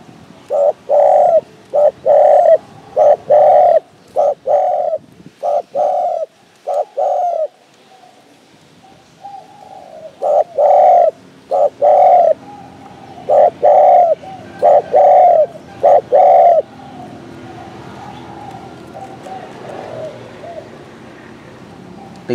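A spotted dove coos in repeated rhythmic phrases of soft, low hooting notes, close and clear, with short pauses between bursts and quieter coos toward the end.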